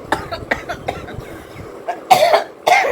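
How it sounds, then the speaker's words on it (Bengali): A person with a cough gives a string of short, sharp coughs that grow louder, ending in two harsh bursts near the end. "সরি আমার একটু কাশি হয়েছে"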